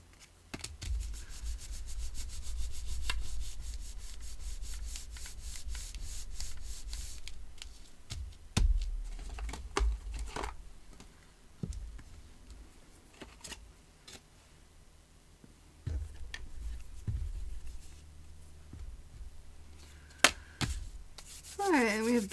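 Soft, close rubbing and scraping on a paper card being pressed down to stick it to a pop-up butterfly birthday card base, with scattered taps and light handling clicks.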